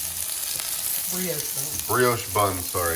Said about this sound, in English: We got indoor sizzle. We got some sliders on the grill.